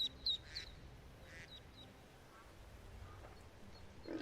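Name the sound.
ducks quacking in Skyrim video game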